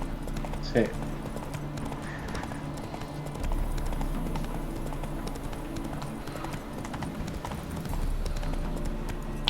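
Roach, the horse in The Witcher 3: Wild Hunt – Hearts of Stone, gallops with a steady, close clip-clop of hooves running throughout while people chat casually over it.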